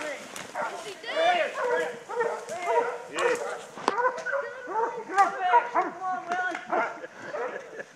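A hunting dog on a bear trail barks and yips repeatedly, loud and close, in quick excited bursts, while people talk and shout nearby.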